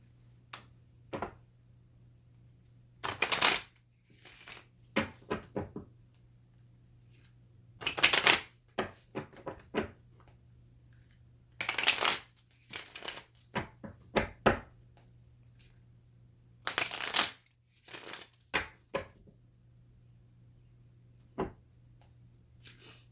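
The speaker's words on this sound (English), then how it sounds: "so I'm just going to shuffle the cards." Cards are shuffled by hand in several brisk riffling bursts, close and crisp, with quiet pauses and a faint hum between them.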